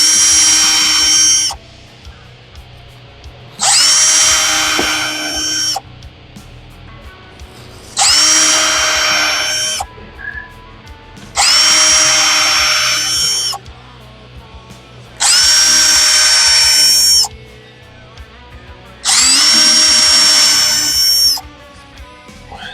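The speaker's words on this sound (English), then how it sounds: "one thing I always like to do is pre-drill my holes, so I don't have to worry about stabbing the subwoofer" A power drill pre-drills holes in subwoofer enclosure trim panels, running in six loud, even bursts of about two seconds each, separated by short quiet pauses with faint handling noise.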